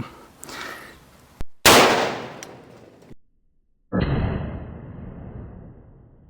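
Derya MK12 shotgun fired one-handed with buckshot outdoors, giving two sharp, loud blasts a couple of seconds apart, each with a short decaying tail, followed by a broad rushing burst of noise.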